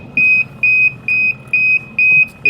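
A Keymark Media BU1600 WL liquid laminator sounds its low-canister alarm: six loud, even electronic beeps in a steady repeating pulse, each about a quarter second long.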